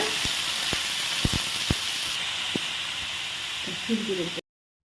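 Chicken pieces sizzle steadily in a hot pan, a broad hiss running under a few sharp clinks. A voice speaks briefly near the end before the sound cuts off.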